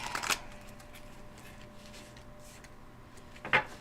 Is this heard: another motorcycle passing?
no